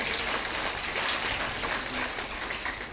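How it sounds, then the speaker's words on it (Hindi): Steady, dense applause from an audience at a Srimad Bhagwatam katha religious discourse in Delhi, clapping loudly and evenly with no voices over it. "इसलिए आप लोगों के लिए जोरदार ताली बजाओ जोर से"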